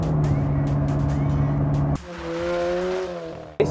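Alfa Romeo 4C engine drones steadily while driving on the motorway, a constant low hum inside a noisy cabin with bare carbon, shifting in tone partway through before a brief sharp knock at the end.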